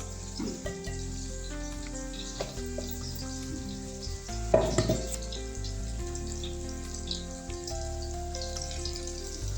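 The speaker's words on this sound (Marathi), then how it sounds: "फोडणीला देतात." Spices crackle and sizzle in hot oil for a tempering in a pan, a continuous frying hiss with a sharp burst of spattering midway, close up, with faint tonal background sounds and no talking.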